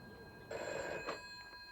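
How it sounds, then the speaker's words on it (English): A telephone rings in a home at breakfast time: a single bright, electronic-sounding burst of ringing, close and fairly loud, then a few softer trailing chirps before it stops. "phone rang one breakfast time"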